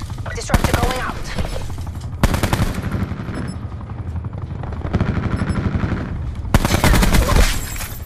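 Gunfire in Black Ops 4, loud bursts of rapid automatic fire in several volleys over a busy battle bed with helicopter-like rumble and announcer callouts in the background.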